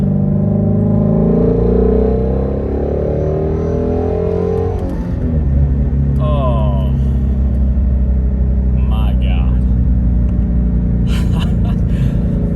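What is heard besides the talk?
sports car engine revving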